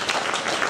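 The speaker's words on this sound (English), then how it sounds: "Round of applause for our local designers." Brief burst of audience applause at a fashion event honouring local designers: a dense, steady patter of many hands at moderate level, cut short within a moment.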